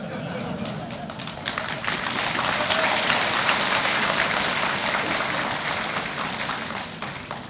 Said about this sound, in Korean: 박수 쳐주셔서 고맙습니다.